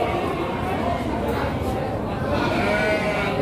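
Goat bleating at a busy livestock market for sheep and goats, a short cry heard amid constant crowd noise while someone talks nearby over the din.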